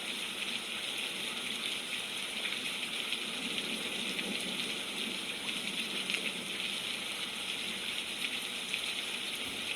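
Steady rain falls on a very rainy day, a continual dense hiss of drops and dripping water that stays even and unbroken throughout, with no voices.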